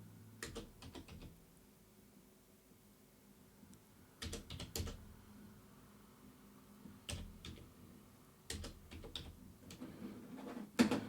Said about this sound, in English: I will type in my mobile number.